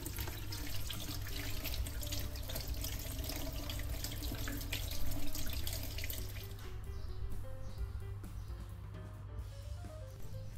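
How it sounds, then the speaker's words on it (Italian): Running tap water rinsing an avocado seed in a sink, a steady close hiss and splash that shifts and softens partway through as the seed moves under the stream. "lo andremo a sciacquare sotto l'acqua corrente"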